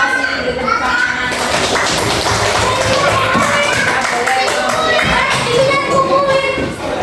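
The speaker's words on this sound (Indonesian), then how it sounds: "Beri tepuk tangan." Children in a classroom clap together in a sustained round of applause, dense and steady throughout, with a few voices and thumps mixed in.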